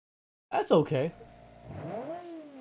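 A 1960s supercar in the BeamNG driving game revs its engine after a short burst of speech, then settles into a steady idle that rises in pitch toward the end, close and moderately loud.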